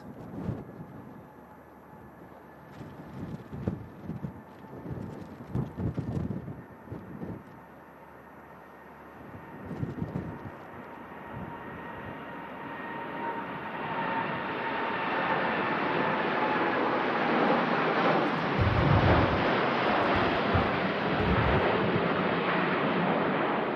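A Norse airliner takes off at Manchester Airport in strong winds, its jet roar building from a distant whine to a loud, sustained rumble, with gusty wind buffeting the microphone early on.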